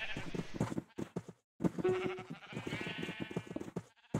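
Several wavering sheep bleats, fairly close and loud, come in short bursts with a brief gap of silence partway through, from the video game Minecraft.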